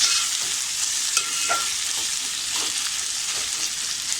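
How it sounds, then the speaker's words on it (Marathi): Two spoonfuls of ginger-garlic paste sizzle steadily in a pan for chicken keema, a bright continuous hiss broken by a few faint stirring scrapes, with no one talking. "ती सुद्धा छान अशी आपल्याला त्याचा आलं लसणाचा कच्चेपणा जाईपर्यंत छान अशी परतून घ्यायची आहे."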